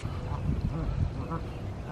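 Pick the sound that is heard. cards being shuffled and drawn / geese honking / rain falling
geese honking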